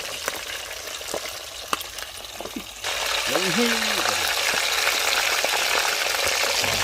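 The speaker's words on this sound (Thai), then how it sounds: "ขาหมูเราจะทอดสองรอบนะคุณผู้ชม เราทอดไปรอบหนึ่งแล้วก็พักไว้" German pork knuckle deep-fries in hot oil during the first of two frying rounds, a continuous bubbling sizzle that grows louder partway through, with a person talking over it.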